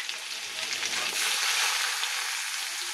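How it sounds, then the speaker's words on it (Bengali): Garlic sizzles in hot oil in a kadai, a bright, continuous frying hiss that swells slightly midway and stays close and steady throughout. "কড়াতে তেলটা গরম হয়ে গেছে। ফার্স্টে আমি দিয়ে দেবো কি রসুনটা"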